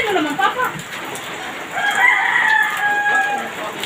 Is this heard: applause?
no